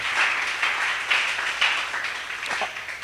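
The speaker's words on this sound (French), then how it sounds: "On acclame pour le Seigneur" A church congregation applauding the Lord, a dense steady wash of many hands clapping in a large room, with slight swells in intensity throughout.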